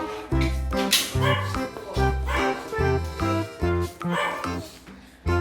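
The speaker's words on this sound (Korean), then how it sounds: "그만 짖게 해줘" An American Bully dog gives repeated sharp barks in quick succession, loud and close indoors, with short gaps between the bursts.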